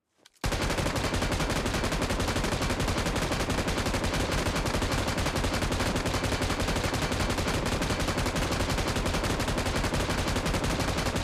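Nonstop automatic gunfire in the BGMI video game, aimed at a generator during a damage test of the Megatron and Optimus Prime guns: a sudden start into a dense, unbroken stream of rapid shots, loud and steady for the whole stretch.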